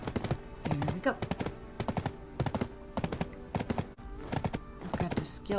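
A horse's hooves clop in a steady, quick rhythm while riding in the online role-playing game Black Desert Online, the beats fairly close and layered over a busy, tonal game backdrop.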